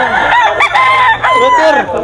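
Close, loud rooster crowing in bursts among gamecocks at a Bulacan poultry market, with clucks and a voice speaking over the birds.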